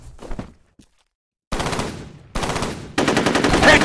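Automatic gunfire in the shooter video game F.E.A.R., three loud sustained bursts of rapid shots separated by brief pauses after a near-silent gap, growing louder toward the end.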